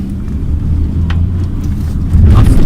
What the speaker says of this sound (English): Now let's see the acceleration. So I'm on the second gear.